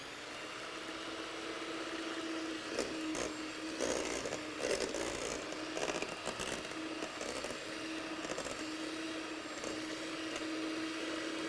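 An electric mixer runs continuously through banana bread batter, a steady whirring drone with a constant hum and some louder rattling bursts midway, close by and with no talk.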